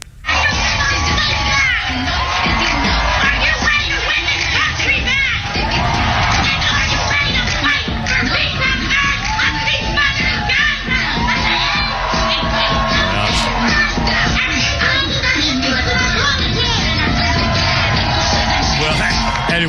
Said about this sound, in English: just screaming and shrieking